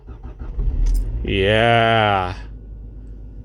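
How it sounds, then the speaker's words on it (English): A Nissan car engine cranks and catches with the key in the ignition on a -4C morning, a loud, steady harmonic whir of about a second that settles as it fires, with a brief spoken word just before it. "So key in ignition, turn it on"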